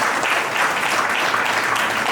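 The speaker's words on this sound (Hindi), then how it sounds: "मैं चाहता हूँ एक बार जोरदार तालियां आप लोग अपने लिए बजाएं।" Loud, steady applause from an audience at a Jain community poetry recital, a dense wash of many hands clapping together without a break.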